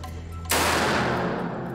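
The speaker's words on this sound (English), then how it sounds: "They'll fire the precious 100-year-old Buckingham rounds remotely, just in case they explode in the rifle." A 100-year-old Buckingham rifle round fired remotely, one sudden loud crack followed by a sustained, slowly fading rushing noise.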